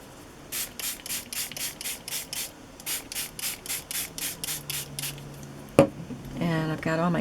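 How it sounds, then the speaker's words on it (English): Two quick runs of short, hissing spray-bottle squirts of water onto paper scraps, about eight in each, followed by a thump and a voice starting to talk. "So I'm spraying these with water."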